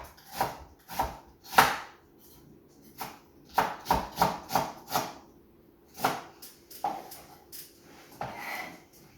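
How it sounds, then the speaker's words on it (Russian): A knife slices an onion on a board in irregular bursts of sharp, crisp cuts, close and fairly loud, with quiet pauses between. "Лук нарезаем перышками."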